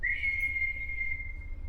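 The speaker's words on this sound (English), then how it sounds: "go ahead and, hit that whistle" One sharp, high-pitched whistle blast rings out loud and clear for about a second, holds steady, then fades out over a low background hum.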